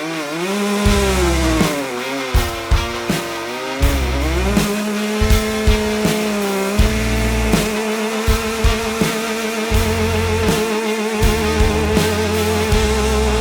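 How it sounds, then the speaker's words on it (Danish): A Puch moped revs hard in a tyre burnout. The high two-stroke engine whine rises and falls through repeated throttle blips, loud and close, with no talking. "Nu skal jeg sgu brænde dæk af på den"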